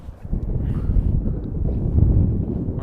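Headwind buffeting the microphone on an open golf course, a loud, continuous low rumble gusting throughout with no voices.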